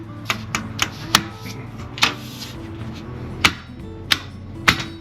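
A TV wall mount bracket's lid being closed, giving a series of sharp plastic and metal clicks and taps at irregular intervals, close and clear, with low talk faintly in the background.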